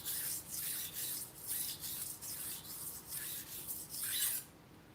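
Steady back-and-forth rubbing on a green 1,000 grit abrasive sharpening stone, a rhythmic rasping scrape repeating about every half second, close and fairly quiet with no talking.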